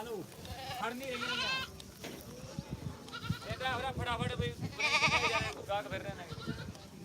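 Goats bleating repeatedly at a weekly goat market in Dhanaula, several animals calling close by in overlapping, wavering cries amid crowd noise and voices.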